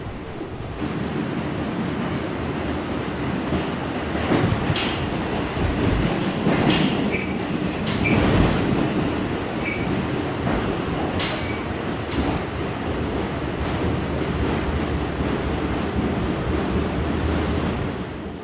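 A Rockaway Shuttle subway train crosses the South Channel Bridge in New York, a loud, steady rumble and roar of wheels on rails with occasional clanks and squeals, heard from inside the car throughout.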